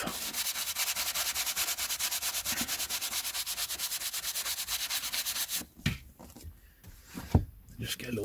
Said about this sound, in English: So we're going to go through and brush the whole lot